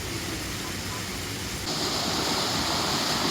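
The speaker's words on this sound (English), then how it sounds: "just look how the water is flooding over them" Water floods over the lock gates of a canal lock used by a narrowboat, a dense, continuous rushing roar close by that grows slightly louder halfway through, with no voices.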